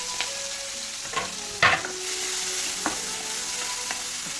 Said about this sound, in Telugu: ఆయిల్ హీట్ అయిన తర్వాత సో ఇవన్నీ ఫ్రై చేసుకోవాలి